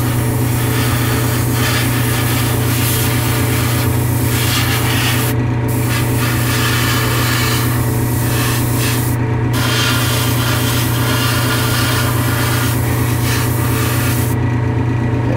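Airbrush or spray can painting a 1/72 scale Jagd Doga model kit, a loud continuous hiss of spray close by, steady throughout with a few brief breaks in the hiss.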